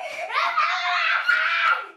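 A young girl at home screams and wails in a sustained, high-pitched cry that rises and wavers for about two seconds, loud and close, with no other sounds around it.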